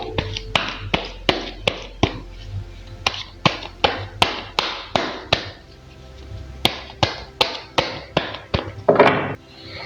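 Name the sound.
shuffling tarot cards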